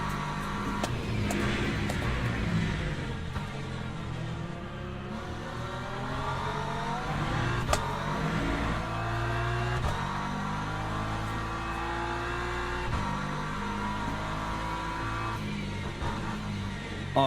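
Engines roar from an LMP2 race car and other racing cars in the video game Le Mans Ultimate, a sustained loud drone with shifting revs and gear changes that holds steady and continuous throughout.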